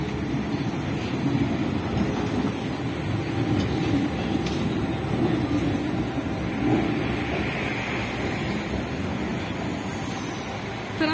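A steady rumbling of a tram rolling past on rails in Szczecin, Poland, continuous and fairly loud throughout, with a faint high squeal above it.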